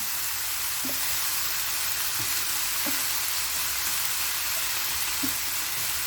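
Leeks sizzle and fry steadily in a hot pan, a constant close hiss punctuated by a few soft clinks and scrapes of a utensil stirring them.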